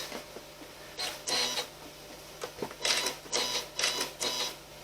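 A sewing machine stitches binding onto a Valentine quilt top in short, close, rattling bursts with brief pauses between runs.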